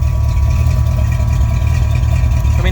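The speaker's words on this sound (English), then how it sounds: "Notice how you can hear the fuel pump over there on the right side." A Holley Blue 110GPH external electric fuel pump hums loudly and steadily beside an idling engine on a car with a Holley 12-803 fuel pressure regulator, a constant whine layered over a low rumble.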